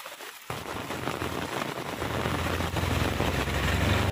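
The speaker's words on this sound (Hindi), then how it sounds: "गुड़गांव में इतनी तेज बारिश है कि कुछ कहना ही नहीं है।" Heavy rain pours down in Gurgaon, a dense, steady hiss and patter that begins abruptly after a brief quiet moment and grows slightly louder, with no talking.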